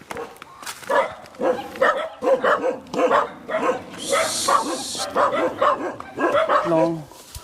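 A dog barks and yips repeatedly in quick bursts, close by, while people talk over it throughout.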